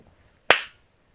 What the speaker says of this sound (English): Shall we give it a clap?